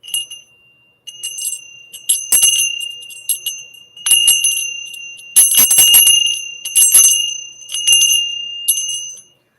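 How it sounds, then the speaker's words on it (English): Buddhist monks' hand bells rung in a steady rhythmic pattern, bright metallic rings with sustained high overtones struck in repeated clusters and bursts, loud and close with no talking. "the monks walk around with these bells"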